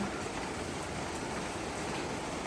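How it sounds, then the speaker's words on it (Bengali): Heavy rain in winter pours down steadily, a dense, unbroken hiss of drops drumming on surfaces close by with no pauses. "দারুণ বৃষ্টি শুরু হয়েছে, দারুণ।"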